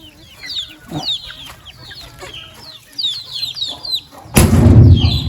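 Hens and chicks cluck and peep close by in a poultry yard, with repeated short chirps and clucks throughout and a louder rustling burst near the end.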